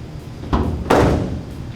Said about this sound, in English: Close the door slowly.